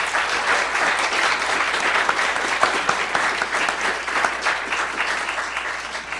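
A seated audience at a panel discussion applauds as a speaker is introduced, a dense, even burst of clapping from many hands lasting several seconds.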